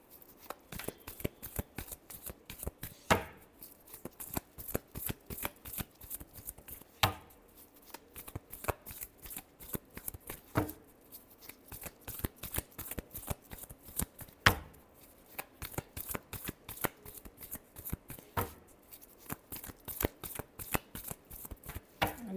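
Tarot cards shuffled steadily and close, a long run of quick riffling flicks in a brisk, even rhythm with a few louder bridging snaps, no talk.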